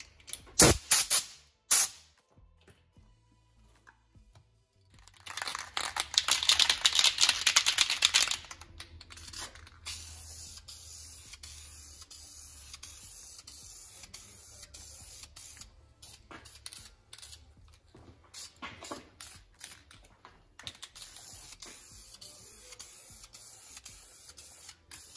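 Aerosol spray can hisses in one steady burst lasting a few seconds, coating engine parts for a destroked 6-litre LS build yellow in a quiet workshop, with brief clicks and rattles before it.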